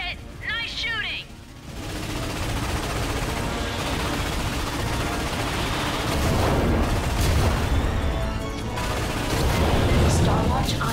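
Gunfire hits warships in Ratchet & Clank on PS4, dense rapid bursts and booming blasts rolling on steadily after a short game voice at the start, loud and busy.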